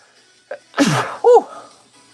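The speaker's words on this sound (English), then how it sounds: "I got to sneeze" A single loud, close sneeze with a short gasping intake before it and a brief vocal follow-through after.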